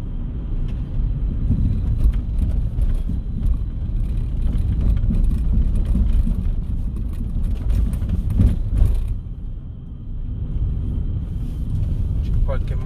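A few cars pass along a quiet, deserted city street during a Sunday lockdown, a low rumbling roll of traffic swelling and fading under a voice.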